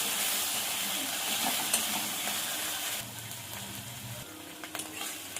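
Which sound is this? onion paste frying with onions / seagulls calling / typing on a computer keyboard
onion paste frying with onions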